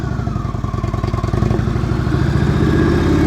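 A motorcycle engine runs during slow-speed riding practice on a course in Ohio, loud and close with a rhythmic low throb that smooths into a steadier drone as revs hold.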